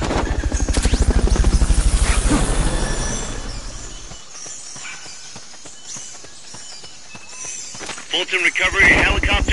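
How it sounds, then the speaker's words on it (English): A helicopter's rotor thumps loudly at first, then fades under game sounds and footsteps, with a voice speaking briefly, in Metal Gear Solid: Peace Walker. "Fulton recovery helicopter is complete."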